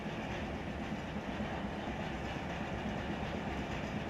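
Rail cars roll through a hump yard in the Run 8 Train Simulator video game, a steady dense rumble of wheels and rolling stock with faint rhythmic clatter, continuous and unbroken.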